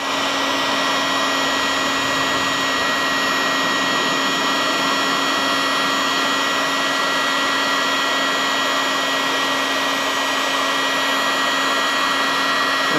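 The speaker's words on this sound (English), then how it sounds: "So let's go ahead and use that heat gun and get this thing back to red." A heat gun blows continuously on faded red plastic of an old Honda Recon four-wheeler, a loud, steady whining roar that holds unchanged throughout with no talking.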